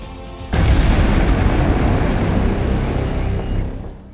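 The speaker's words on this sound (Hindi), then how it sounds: "सुबह सुबह एक धमाके और धुएं के गुबार ने दिल्ली को बेचैन कर दिया" A sudden loud blast near a CRPF school in Rohini, Delhi, bursts in, followed by a heavy, sustained rumbling roar that gradually fades away.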